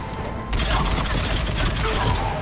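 Rapid gunfire from a weapon in the video game Mass Effect 3 fills the moment, a dense, loud burst of shots and booms that starts abruptly and sustains through a chaotic battle.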